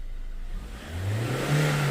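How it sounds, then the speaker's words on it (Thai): A Ford Ranger pickup truck engine with a faulty oil temperature sensor revs up, its pitch climbing steadily over a couple of seconds with a rising mechanical whine. "เวลาเราเร่งเครื่องเหยียบเหยียบคันเร่งจนมิดเนี่ย"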